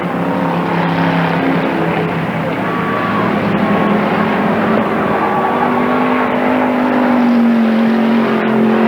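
Thunder class race cars roar around an oval speedway at Tri City Raceway Park, a dense continuous engine drone with shifting pitches as several cars pass, loud and steady with no clear speech.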